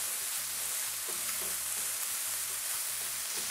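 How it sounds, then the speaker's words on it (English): Carrots sizzle as they are stir-fried in a pan for ramen, with a steady hiss and soft, rhythmic scraping and shuffling from constant stirring, fairly quiet and close with no talk. "We're only gonna cook this for a couple of minutes, but we're gonna stir it the whole time."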